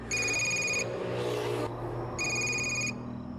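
A telephone rings in two electronic bursts separated by a pause, with a muffled noisy stretch between them and low background rumble.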